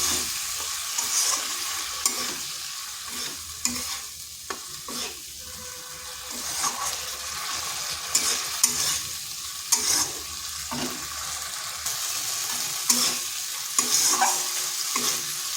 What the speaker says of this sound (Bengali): দিয়ে দিচ্ছি ধুয়ে রাখা মুসুরটা। এরপরে মুসুর ডালের সাথে মশলাটা বেশ ভালো করে কষে নিতে হবে।